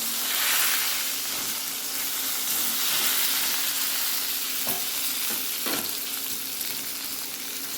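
Gunda fruit fries in hot oil with cumin, hing and pickle masala: a continuous, fairly loud sizzle close by, broken by a couple of sharp spatula clicks and pops.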